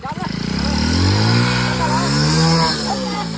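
A motorcycle engine, hot from running in a village, revs up in a steady rising drone with thick low harmonics, loud and close throughout.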